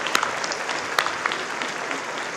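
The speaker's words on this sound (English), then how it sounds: "Let's give them a round of applause." A crowd at a New York State court officer graduation ceremony applauds academy staff with a steady patter of clapping, a few sharp cheers or whistles standing out above it.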